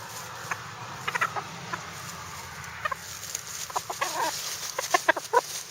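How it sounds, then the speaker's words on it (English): A d'Uccle bantam hen in a dewberry patch gives soft, scattered clucks that quicken toward the end, heard over a steady low outdoor hum. "Listen to her. That's a happy hen."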